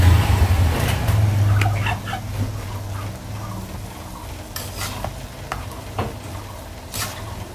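Goat tripe frying in a little oil over a low flame, with a loud, continuous sizzle and crackle and steady scraping strokes as it is stirred in the pan.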